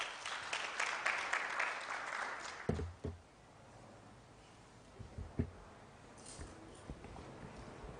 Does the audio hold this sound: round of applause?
yes